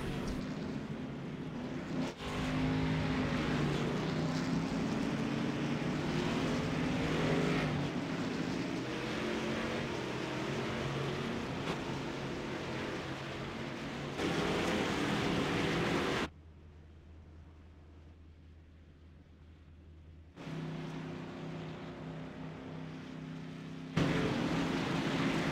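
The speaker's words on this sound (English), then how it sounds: "Well, cars on track here. Everybody getting lined up, ready to go." Race cars roll onto the track and line up at Kansas Lottery Speedway in a racing video game, giving a steady engine drone that drops away briefly before returning.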